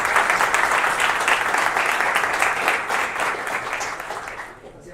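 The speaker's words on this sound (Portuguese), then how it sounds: "uma salva de palmas pela hora" An audience at a panel talk gives a warm round of applause, a dense wash of clapping that stays strong before gradually fading toward the end.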